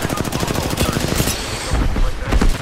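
Rapid automatic gunfire in the shooter game Apex Legends, loud dense bursts of shots rattling almost without pause, with a player's voice occasionally heard over it.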